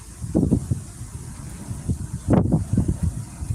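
Strong outdoor wind buffets the microphone in uneven low gusts, with two louder bursts of rumbling noise standing out against a softer steady whoosh.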